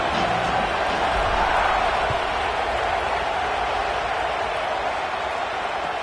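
A loud, steady roar from a stadium crowd at a playoff football game fills the whole stretch as a dense, unbroken wash of distant cheering.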